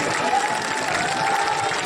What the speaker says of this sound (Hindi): विधायक जी खड़ा हो जाइए, जोरदार ताली बजा करके स्वागत करिए